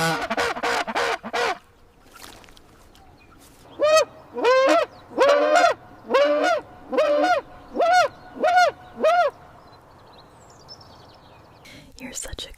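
Geese on a goose farm honk in a loud run of repeated nasal calls, several close together, after a few earlier honks and with soft whispered talk nearby.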